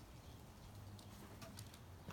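Doves and pigeons cooing outdoors near a chicken coop and rain barrel, faint and soft calls set against steady background noise.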